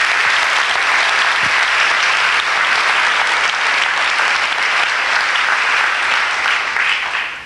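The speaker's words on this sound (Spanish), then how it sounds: "Un aplauso al Señor" A church congregation applauds with steady, dense clapping that fills the space and holds loud and even from start to finish, easing off only at the very end.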